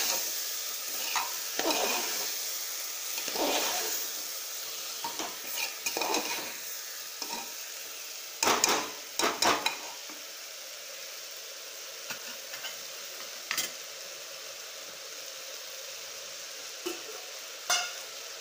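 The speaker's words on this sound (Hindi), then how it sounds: "सारी सामग्री को अच्छी तरह से हम इसमें मिक्स करेंगे।" A spoon scrapes and stirs rice, peas and carrots for pulao in a pressure cooker, with intermittent clinks and scraping strokes over a soft sizzling background.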